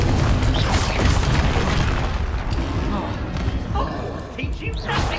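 Confringo blasting spell fired in Hogwarts Legacy, booming explosive impacts amid dense game combat noise and mechanical clatter, with a voice talking over it.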